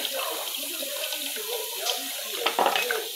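Tap water running into a kitchen sink during dishwashing, a steady close splashing stream that turns choppier near the end as dishes are moved under it.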